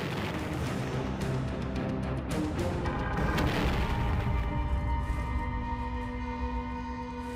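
A World War I era hand grenade goes off with a heavy boom and crackling debris, the blast rolling and echoing for several seconds.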